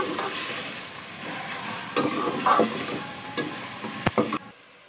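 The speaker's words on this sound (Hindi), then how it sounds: "अब इसमें ऐड कर रही हूँ मैं चिकन। सबसे पहले हम इसमें चिकन ऐड करेंगे और उसको थोड़ी सी देर के लिए भून लेंगे।" Chicken being fried and stirred in a pan with masala paste while preparing macaroni, a steady sizzle with scraping spoon strokes and occasional sharp clinks, close by and without talk.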